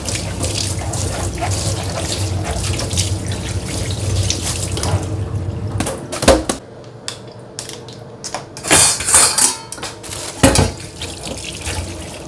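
Dishes and cutlery being washed under a running tap in a sink, steady water flow for several seconds, then clinks and knocks of utensils with splashing bursts.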